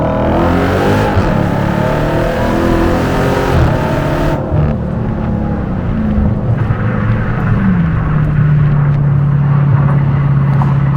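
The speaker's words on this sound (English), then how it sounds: "This is also the only car where I feel like the sound from the engine bay is fighting to overtake the sound coming out of the exhaust." A Dodge Hellcat Jailbreak's engine and exhaust roar loudly up close as the driver downshifts, revs dropping and then settling into a deep, steady drone, with no talking.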